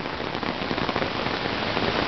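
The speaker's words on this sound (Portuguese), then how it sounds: "Chuva forte aqui, hein? Ó, tá forte." Heavy rain pours down on a residential street in São Paulo, a dense, steady roar of drops close to the microphone with no pauses.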